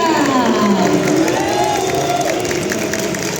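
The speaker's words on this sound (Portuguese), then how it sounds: "Queria pedir para todo mundo que está sentado levantar e aplaudir de pé essa artista maravilhosa" A standing ovation for an artist at an anime convention talk, a loud, continuous wash of clapping mixed with cheering and shouts from the crowd.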